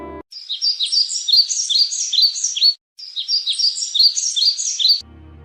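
A myna bird chirps in an animated Hindi story, sending out rapid, bright, repeated tweets in two long bursts split by a brief pause, with no talk over them.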